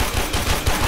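Fast, close automatic weapon fire in the video game Warframe during co-op play, a loud, continuous rattle of shots with punchy low thumps.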